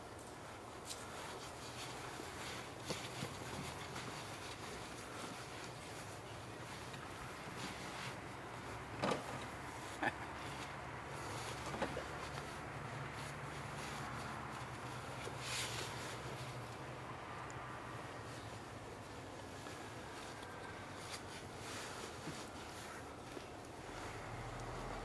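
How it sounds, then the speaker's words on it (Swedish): A Thunder Tiger Bandit radio-controlled boat runs on water outdoors, its steady motor whine droning on at a moderate distance for the whole stretch, with wind and a few faint knocks beneath it. "Fin båt."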